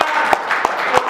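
Audience applause at a cricket club's end-of-season awards party, with steady dense clapping and a few sharper claps rising above the wash of hands.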